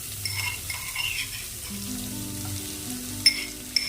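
Chopped onion sizzles in a pan, a steady close frying hiss with soft stirring scrapes and a couple of sharp clinks near the end, no talk.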